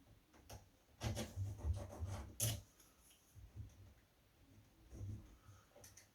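A pencil scratches around a door handle part held against wooden door stock during a house renovation, making faint, close rubbing strokes with a few sharper ticks, quiet and intermittent with no talking.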